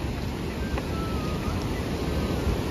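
River water rushes along the route to Kedarnath, a steady dense roar filling the whole stretch without pause, with some wind buffeting the microphone.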